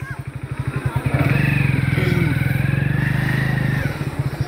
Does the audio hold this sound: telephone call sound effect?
no